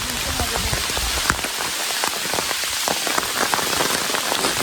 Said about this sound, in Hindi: जबरदस्त ओले पड़ रहे, जबरदस्त।